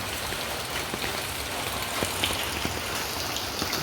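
Typhoon rain falls steadily outdoors among potted plants, an even, dense patter on surfaces with scattered louder drops, with no one talking.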